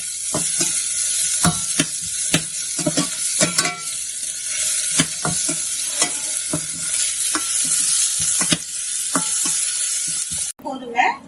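Onions sautéing in a pan for kadhi pakora, a steady loud sizzle with repeated scraping stirs of a spatula throughout, ending briefly.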